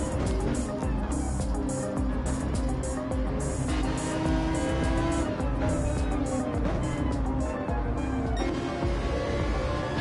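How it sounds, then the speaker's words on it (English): A Gr.3 race car in Gran Turismo 7 at Spa roars past with a sustained, loud engine drone and shifting pitch, other cars' engine noise underneath for the whole stretch. "And Straps flying by."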